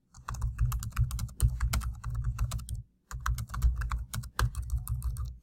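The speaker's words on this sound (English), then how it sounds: "So I'm typing information here." Continuous clicking keystrokes on a computer keyboard, close and fairly quiet, in two bursts separated by a short pause near the middle.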